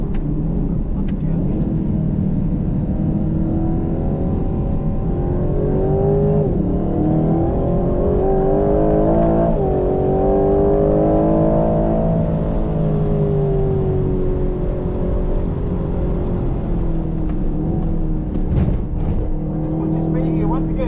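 A 2025 Aston Martin Vantage on a race track gives a loud, close engine note that climbs and eases through the gears without a break.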